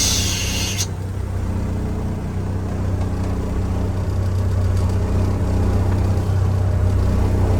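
A 1985 Peterbilt 362 cabover truck's engine pulling away: a loud, steady low diesel rumble that swells slightly after a brief higher hiss at the start, with no talking.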